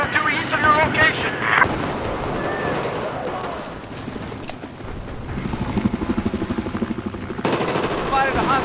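Sustained automatic machine gun fire in Battlefield 4 on the Golmud Railway map, a dense rapid rattle that runs nearly throughout. Other game sounds and a voice are layered over it.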